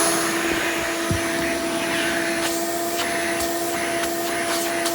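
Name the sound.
Hoover Elite 350 replica vacuum cleaner running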